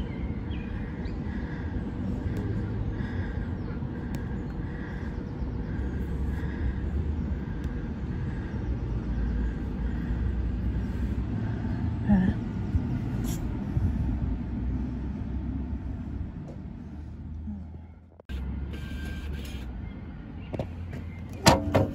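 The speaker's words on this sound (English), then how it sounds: "So I'm just at the tram stop now," Outdoor ambience at a Manchester tram stop: a steady, fairly loud rumble and hum with scattered clatter and light clicks, briefly cutting out near the end before resuming, and no voices.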